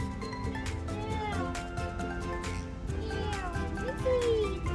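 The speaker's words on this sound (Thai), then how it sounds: "อันนี้น้องแมวจอมจัดที่ป้าอ้อยพูดถึงปะะนี่" A cat meows repeatedly outdoors in a backyard garden, a series of rising and falling mewing calls mixed with people chatting nearby.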